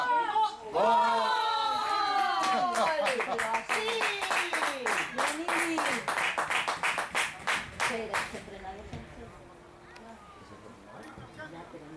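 Sharp rhythmic clapping from spectators at a youth football match, a quick steady run of claps mixed with shouting voices, fading out near the end.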